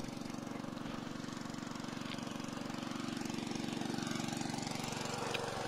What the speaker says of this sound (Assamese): ইয়াক ডাইনামা এখন বা কি বুলি কয় জেনেৰেটৰ এখন লগাই দিছে সিঁচিবলৈকে এই দাদাজনে